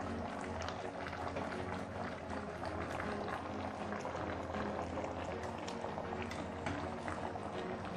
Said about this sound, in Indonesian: kemudian aku rebus kembali untuk membuat airnya menyusut dan terserap ke tahu dan tempenya